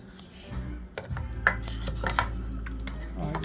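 Red currant jam spooned through a funnel into jars, with scattered clinks of a spoon against glass and metal over a steady low hum of kitchen equipment.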